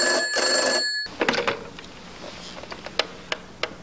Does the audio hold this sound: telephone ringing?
yes